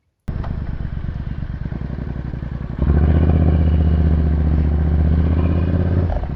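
A Triumph Bobber motorcycle engine starts and idles nearby with a steady pulsing beat, then picks up to a louder, deeper rumble partway through and holds there, no talk.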